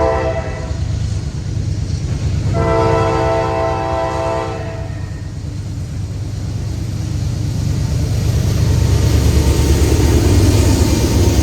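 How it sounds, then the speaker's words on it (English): A Norfolk Southern unit autorack train led by two rebuilt AC44C6M locomotives rumbles past loudly at a railpark in Fostoria, Ohio, sounding two horn blasts early on over a steady, rising roar of wheels and cars. "Next up will be a unit autorack train, 11E. This train is powered by two NS AC44C6Ms rebuilt from Dash 9s."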